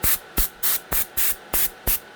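Compressed inert-gas air duster sprayed on PC and server electronics, seven short sharp hissing bursts in an even rhythm, close and fairly loud with no voice.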